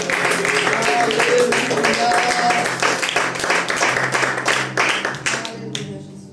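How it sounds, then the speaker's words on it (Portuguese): Congregation applauding in a church, a dense, sustained clatter of many hands clapping for several seconds before tapering off, with voices mixed in. "Vamos aplaudir Jesus."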